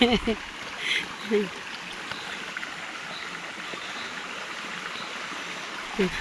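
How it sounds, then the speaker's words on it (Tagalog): Fast-flowing creek water rushing steadily over rocks outdoors, a constant broad wash of sound with brief voices chattering at the start and again near the end. "Sapa. Ah, grabe yung ano doon oh, lakas oh."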